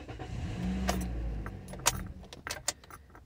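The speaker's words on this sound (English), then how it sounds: "I'm gonna try to start the vehicle for like 10 seconds" A 2015 Toyota Corolla S engine cranking during a start attempt for a compression test, a low whirring churn for about a second, followed by scattered clicks and rattles, with no talking.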